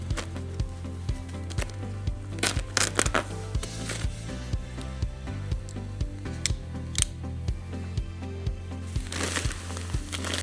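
A bag of Menards sand being cut open: a string of close, crisp snipping and crinkling ticks in a steady rhythm, with a few louder plastic rustles and crackles in between.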